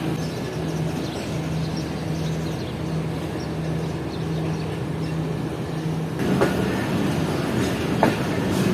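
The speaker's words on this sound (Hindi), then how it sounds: "तो ठीक 2 मिनट रुकने के बाद ट्रेन डिपार्ट कर रही है" A passenger train pulls out of Walton railway station on the Lahore to Karachi route, its steady rumble and clickety-clack on the rails running the whole time and growing louder and rougher toward the end.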